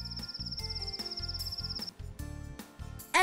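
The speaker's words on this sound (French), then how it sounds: "Un grillon." A cricket gives a rapid, high, pulsing trill for about two seconds over a rhythmic musical background, heard close and clear.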